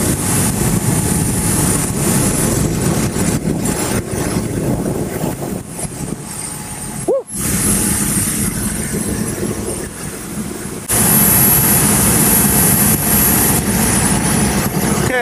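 A SubSonex small single-seat jet in flight gives a loud, continuous broadband roar with airflow rush. It briefly dips near the middle, then grows brighter and harsher for the last few seconds.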